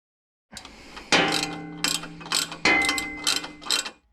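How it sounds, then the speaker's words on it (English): Nuts being tightened by hand while a Torqit exhaust section is fitted under an Isuzu D-Max, heard as close, brisk ratcheting clicks in several short bursts with brief pauses between. "then just tighten the nuts up, just finger tight until I get the entire section on"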